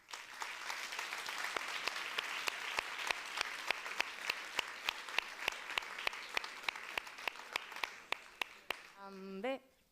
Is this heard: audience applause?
yes